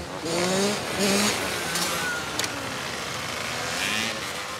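Motorcycles riding around a parking lot in Marseille, engines revving and rising in pitch in several passes with faint tire noise, fairly close and steady, no clear voices.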